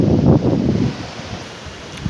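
Strong wind blows across an open area during a pigeon toss in San Pablo City, a loud gusty rumble against the microphone that eases toward the end, with a brief burst just before it stops.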